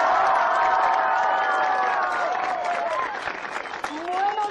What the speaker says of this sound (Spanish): quiero que recibamos con un fuerte aplauso también a la primera dignataria y mandataria de la localidad